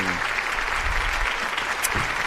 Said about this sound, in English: That was supposed to be applause.